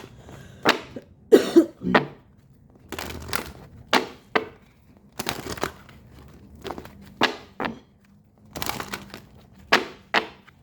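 Repeated coughing in uneven bursts, close and fairly loud, with short quiet gaps between fits.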